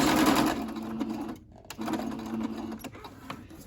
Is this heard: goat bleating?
no